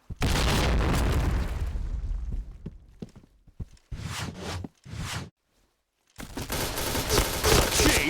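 Rapid gunfire bursts and booming shots from a video game run of chained headshots, loud and close, broken by short silent gaps before a dense final volley.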